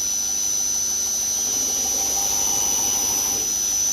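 A grinder works a dagger blade, a loud continuous whine with a piercing high tone and rough grinding texture, steady throughout.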